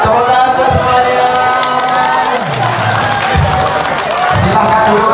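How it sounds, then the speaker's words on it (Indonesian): A school hall audience at an inspirational talk bursts into loud applause and cheering, with shouts and whoops over dense clapping, and a voice speaking over the crowd. "Tepuk tangan untuk semuanya."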